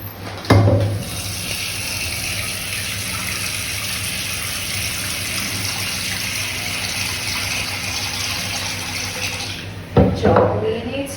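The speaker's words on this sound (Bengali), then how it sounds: "এবার আমি এটার মধ্যে জল দিয়ে দেবো।" Water pours steadily from a tap into a cooking pot over greens being cooked at home, a continuous gushing stream lasting about nine seconds, bracketed by brief clanks of the pot.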